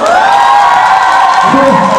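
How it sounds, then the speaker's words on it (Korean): Audience at a musical showcase for Rent cheering and whooping loudly throughout, a dense crowd roar with high shouts, and a voice briefly rising through it near the end. "박수 한번 주세요"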